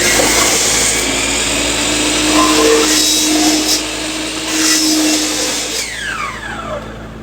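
Miter saw running through wood while hollowing the center of a wooden bread platter, a loud continuous whining motor roar that swells and eases with each pass, with no talking.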